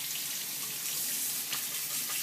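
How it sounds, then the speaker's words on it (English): Water running steadily from a tap while a paint brush is rinsed under it, a constant close hiss and splash with slight surges and no talk. "The water is running clear."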